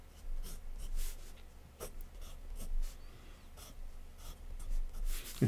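A blue pencil scratches across paper in short, soft strokes and scribbles, faint and close, with brief pauses between strokes and a quiet room hum underneath.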